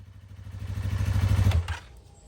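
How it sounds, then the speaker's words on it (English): A 2024 Yamaha R3 motorcycle idles with a steady low mechanical thrum that swells, then cuts out abruptly when the side-stand kill switch trips, leaving near silence. "the kill switch should activate when the side stand comes down"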